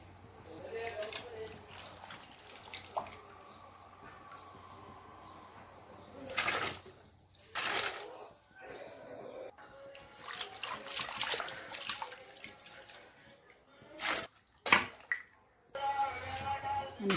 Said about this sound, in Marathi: आता मी ह्याच्यामध्ये चिप्स टाकून घेणार आहे